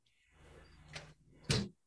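A drawer in a wooden carving-tool cabinet slides and bumps shut in a workshop, two short knocks with the second louder and sharper, close by with faint background hum.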